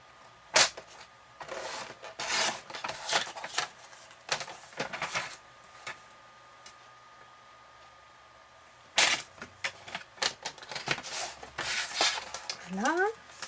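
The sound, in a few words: cutting a paper square for a pop-up card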